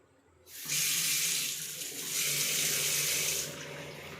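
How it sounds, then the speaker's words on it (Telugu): Water gushes fast from a kitchen tap in a newly built TIDCO housing flat in Guntur, a loud steady rush starting abruptly and continuing alone without talk. "వాటర్ కూడా చాలా ఫాస్ట్గా వస్తాయి."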